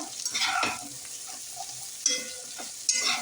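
Vegetables for veg biryani are stirred while frying in a pan on medium heat. Several scraping, swishing strokes of a spoon rise over a steady soft sizzle, close by, with no talking.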